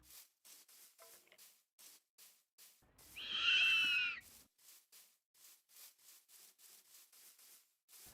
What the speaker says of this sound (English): Owls just make the worst noise. At least I think that's owls. Like there's that hooting.